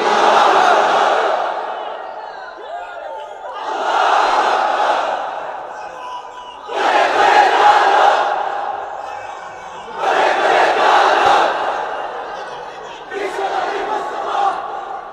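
A large crowd at a religious gathering chants takbir in unison, five loud, drawn-out shouts of many voices, each lasting about two seconds and separated by short pauses.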